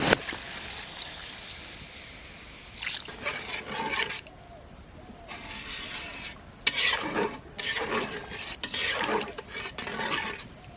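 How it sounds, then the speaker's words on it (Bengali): Water is poured onto sautéed, spiced potatoes in a pot for aloo dum, giving a bright hissing gush followed by bursts of sizzling and stirring. "আলুটা ভালো করে কষিয়ে নিয়েছি, এবার জল দিয়ে দেবো।"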